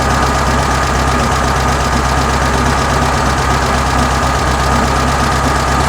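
A 1974 VW Beetle engine idles at a steady, dense mechanical drone with even ticking and slight knock, recorded close and loud throughout without any voices.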